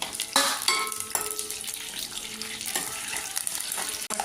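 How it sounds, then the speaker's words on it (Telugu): Peanuts and chana dal fry in a pan with a steady, crackling sizzle. Occasional louder pops and stirring clinks break through, close and constant for a few seconds. "పల్లీల గింజలు కొద్దిగా వేగాలి."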